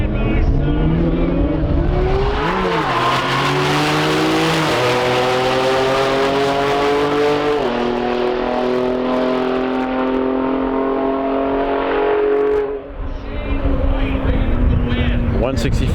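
Toyota Supra and Nissan GTR racing side by side at high speed, loud sustained engine roar with rising gear pulls and shifts, engines blending together, briefly dipping near the end before surging again.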